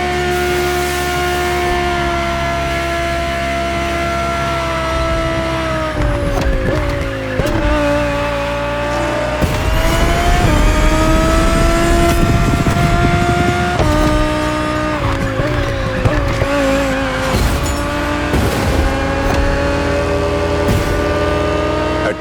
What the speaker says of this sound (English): The 2020 Audi R8 LMS GT2.